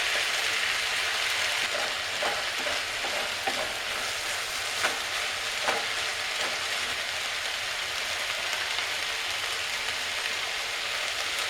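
Garlic, onion and carrot fry in a skillet for a one-pan ratatouille, giving a loud, steady, dense sizzle with occasional stirring clicks, constant throughout.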